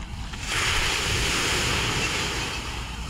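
Sea waves wash along the shore at Mercedes town, a broad roaring surf with steady wind noise buffeting the microphone, continuous and close.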